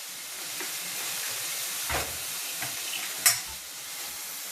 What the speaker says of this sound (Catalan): Deixarem sofregir res amb la ceba, el pebrot, l'all, tot això